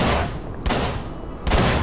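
Gunfire in the horror game Call of Cthulhu: Dark Corners of the Earth, two loud sharp shots roughly a second apart over a rumbling, noisy background.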